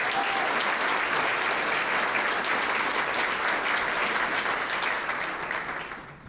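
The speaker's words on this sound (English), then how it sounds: "So let's give her a big round of applause," An audience at an annual business appreciation breakfast breaks into sustained applause, a dense, even wash of many hands clapping that holds for several seconds and then fades.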